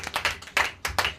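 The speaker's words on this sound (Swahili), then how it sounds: "Pigie Bwana makofi mazuri mazuri mazuri mazuri." A church congregation clapping hands in praise, several quick bursts of claps close and lively with short gaps between them.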